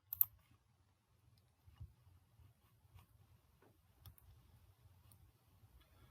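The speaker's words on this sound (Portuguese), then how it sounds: "eu vou clicar em excluir." Computer mouse clicks in a quiet room while deleting an item in budgeting software: a few sharp, faint clicks spaced several seconds apart over a low hum.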